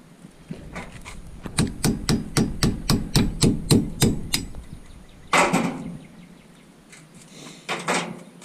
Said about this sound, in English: That I will use an impact gun to take off.